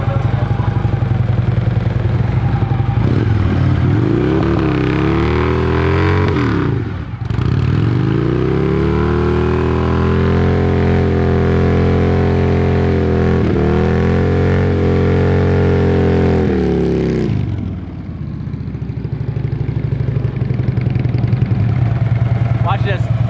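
A Harley-Davidson Road Glide bagger, a totaled insurance-auction bike, revs hard right after a burnout. Several loud sustained throttle pulls rise and fall, with brief dips between them and people talking nearby.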